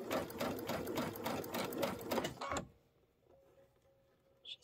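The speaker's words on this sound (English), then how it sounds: "let's go ahead and sew along this edge" A sewing machine stitches along the edge of fabric for a quilt-shop embellishment project, a dense fast rhythmic whirr lasting about two and a half seconds before stopping, followed by near silence and a faint click.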